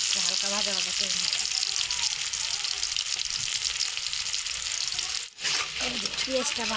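Onions sizzling steadily in a hot karai wok while a Bengali egg and pui greens dish is cooked, a continuous close hiss with light stirring, briefly dipping near the end, with faint voice in the background.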